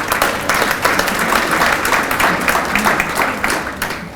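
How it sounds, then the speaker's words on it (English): A room full of people applauding during a campus visit, steady close clapping with a thick, even texture that holds for several seconds before easing off slightly. "Let's give them a round of applause,"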